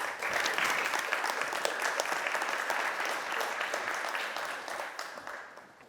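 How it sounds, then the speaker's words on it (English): Sustained applause from a large audience at an inaugural conference session, dense and steady for several seconds before tapering off slightly toward the end. "Give him a warm applause."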